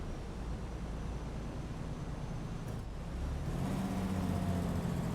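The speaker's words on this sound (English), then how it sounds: "The engine brake, it sounds just like they do in real life." A heavy truck's engine brake in American Truck Simulator, driving a Peterbilt 389, sounds as a steady low rumbling drone that swells slightly louder partway through, with no talking.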